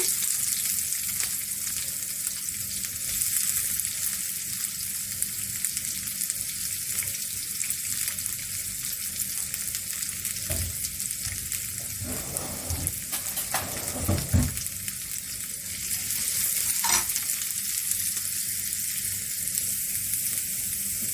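Onions fry with a steady loud sizzle in a pan while being stirred, occasional scraping strokes and clinks cutting through the continuous hiss for about twenty seconds, no talking.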